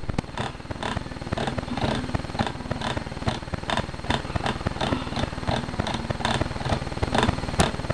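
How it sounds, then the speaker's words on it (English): Computer mouse wheel being scrolled, a rapid dense train of tiny ratcheting clicks continuing throughout, close and steady. "You can hear my mouse scrolling right now"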